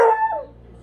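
A hound dog gives a short, loud bark that slides down into a brief howling whine, close up and alone, lasting under a second.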